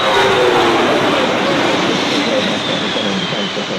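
A Globemaster military transport aircraft passes overhead at an Australian airshow, a loud broadband jet roar that stays constant and then eases slightly, close and dominant throughout.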